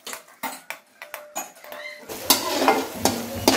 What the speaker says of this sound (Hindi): प्याज को हमने लाइट ब्राउन होने तक जो है फ्राई करने है।